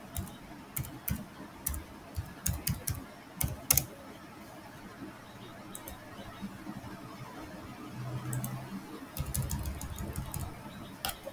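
Keys on a computer keyboard tapped to type a search term, a run of crisp close clicks in quick bursts with short pauses, followed by a soft low rumble near the end.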